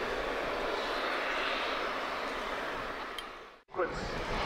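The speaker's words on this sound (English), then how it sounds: "with the Airbus Military A400M, the Atlas" An Airbus Military A400M Atlas turboprop transport roars past at an airshow, RIAT 2013, a loud sustained engine rumble that fades and then briefly cuts out before picking up again.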